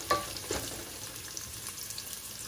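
Small pieces of cow stomach sizzle and fry in olive oil in a pan, a steady crackling hiss with a few louder pops near the start, close and fairly quiet, no voices.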